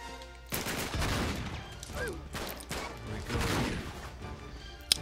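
Sustained gunfire from the video game Uncharted 3, dense bursts of shots and heavy impacts rolling through the scene, loud and continuous with a sharp crack near the end and no talk.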